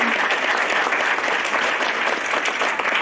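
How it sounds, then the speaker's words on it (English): An audience at a junior high and high school awards ceremony gives a steady, dense round of applause, a continuous wash of many hands clapping at once, fairly loud and without talk. "So one more round of applause for them"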